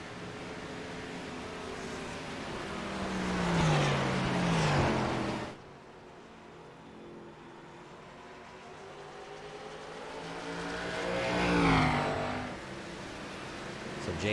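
Race cars in a Scrambler Series event at New Hampshire speed past, engines rising and falling as they approach and pass twice, with a sharp drop-off in the middle; a commentator talks over them.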